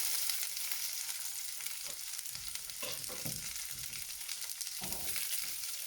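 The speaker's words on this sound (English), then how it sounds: "Right, pan's hot, so we're going to whack in some butter. Unsalted for this. So, in go the peppers." Peppers sizzle and fry in unsalted butter in a hot pan, a bright, steady crackle with occasional stirring scrapes and bursts of spitting fat close by.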